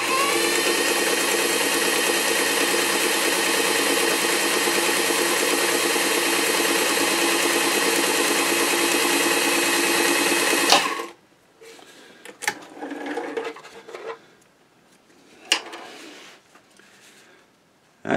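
Singer 237 sewing machine stitching at a long stitch length: a loud, even, rapid mechanical whir close by that runs for about ten seconds and then stops, followed by scattered handling clicks and rustles.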